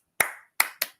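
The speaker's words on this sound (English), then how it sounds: "Is it the clap?" Three sharp hand claps, close and loud: one single clap, then a quick pair, each with a short ringing decay in a quiet room.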